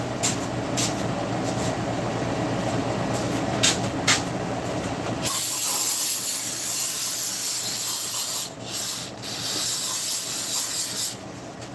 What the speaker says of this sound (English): Let's spray this out.